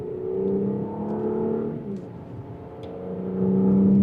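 Engine and exhaust of a 2026 Audi S5 Premium Plus accelerating in dynamic mode, a steady rising drone heard from inside the cabin that dips briefly and then swells louder toward the end.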